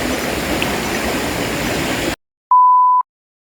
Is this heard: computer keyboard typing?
no